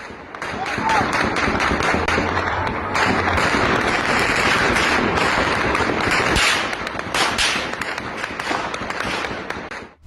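Automatic rifle fire in news footage from Iran sounds as a dense, continuous crackle of rapid sharp reports. It stays loud for most of the stretch, then thins toward the end, with voices talking beneath it.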